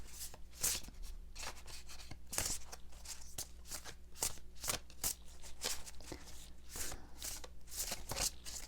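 Oracle cards from the Woodland Warden's deck being shuffled, a run of crisp riffling and flicking bursts in an uneven rhythm, close and fairly quiet over a low steady hum.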